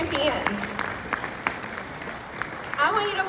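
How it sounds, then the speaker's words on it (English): A conference audience at a Mary Kay career event applauds, with clapping and scattered cheers rising and falling while voices carry over the noise. "give these ladies a huge round of applause"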